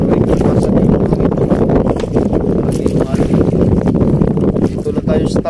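Strong storm wind blasts across the shoreline during a typhoon, roaring loudly and continuously with buffeting gusts against the microphone, while someone talks over it.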